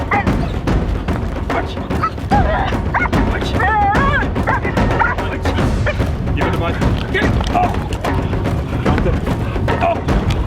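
A police dog on an anti-poaching team barks in repeated loud bursts at a handler's target, mixed with dull thumps and rumbling outdoors.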